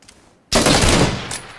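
Gunfire in the video game PUBG: after a short quiet moment, a sudden loud, dense burst of shots starts and sustains to the end, close and harsh, with no talking.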